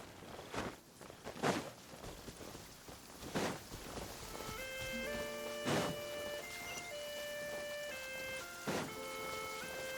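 Steady rain pours down in the video game Genshin Impact with a constant hiss, a few heavier thuds break through, and soft sustained synth tones drift in partway.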